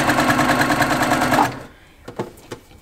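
A sewing machine stitches quilt pieces in a fast, even whir for about a second and a half, then stops, leaving a quiet room with a few sharp clicks and small handling noises.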